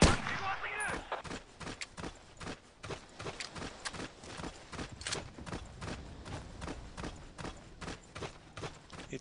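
Distant mounted machine gun fire in the World War II shooter Battlefield 1942, heard as a steady run of sharp repeated shots with a regular rhythm, mixed with other battlefield noise.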